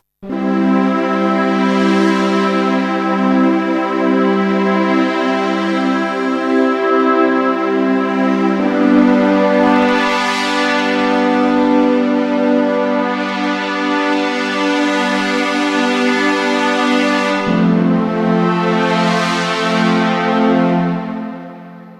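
A rich, bright synth pad from a 1990s Yamaha SY22 vector synthesizer preset holds long chords that change three times, with slow sweeping brightness swells over a steady drone.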